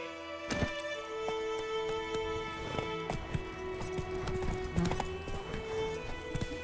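Horse hooves clip-clopping in the video game The Witcher 3, a steady walking rhythm of sharp hoof strikes with faint jingling tack over a quiet ambient bed.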